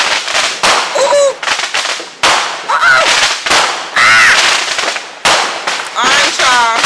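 Fourth of July fireworks and firecrackers go off in a rapid string of loud, close cracks and bursts, crackling in repeated clusters with short gaps between them.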